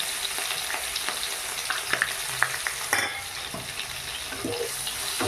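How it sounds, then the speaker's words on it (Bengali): Chopped onions fry in hot oil in a pan, a steady close sizzle broken by occasional scraping stirs and small clinks of a spoon, with no talk. "এবারে দেব কুচনো পেঁয়াজ দিচ্ছি"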